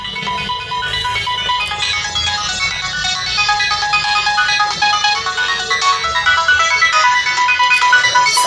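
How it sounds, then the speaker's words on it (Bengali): Ringtone of a Symphony Hero 30 mobile phone, a steady melodic electronic tune playing loud and continuous for several seconds with no other sound. "ফোনটির যে রিংটোনের সাউন্ড এটা কিন্তু মিডিয়াম থাকবে"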